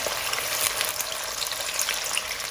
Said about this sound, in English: So I'm just going to fry 3 pieces at a time.